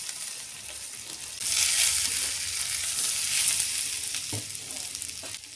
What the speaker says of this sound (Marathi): आता आपण जे फ्राय करून घेतलेले आहेत ना बटाटे आणि तोंडले, त्या कढईत ते टाकून घ्यायचे आहेत